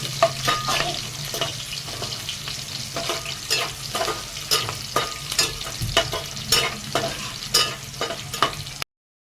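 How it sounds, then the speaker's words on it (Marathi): Garlic frying in hot oil until golden brown, steady close-up sizzle broken by repeated scraping and stirring strokes of a spoon against the pan. "लसूण जो आहे तो छान असा गोल्डन ब्राऊन झाला"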